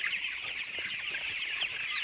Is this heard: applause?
no